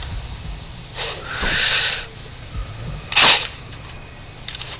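Sniper rifle shots ring out in the video game Sniper Ghost Warrior 2. Two sharp, loud cracks with hissy tails stand alone, separated by a second or so, followed by faint clicks.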